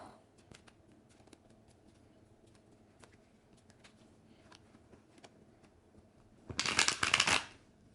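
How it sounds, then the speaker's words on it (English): A brief burst of tarot card shuffling, a quick riffling flutter, comes near the end after a quiet stretch of soft taps and handling noise. "I just like to shuffle these around until it feels right."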